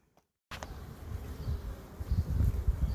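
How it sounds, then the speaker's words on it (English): Honey bees buzzing steadily around hives, a dense low hum that starts abruptly and swells slightly, close by with no talking. "we're just going to calm the bees down a little bit"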